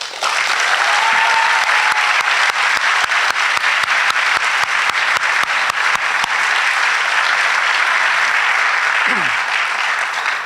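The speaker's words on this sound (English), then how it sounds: "give a round of applause and acknowledgement to Mr. John Hickey" Loud, dense audience applause fills a senior awards night for a high school class of 2024, with some sharper claps standing out early on, holding steady the whole time without fading.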